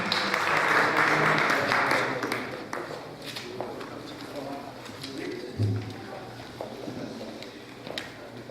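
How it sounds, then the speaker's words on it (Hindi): An audience at a mushaira poetry gathering in Dallas breaks into applause that is loudest at first and then thins and fades. Scattered claps and a murmur of voices continue underneath. "बहुत पुरजोश तालियां हो जाए"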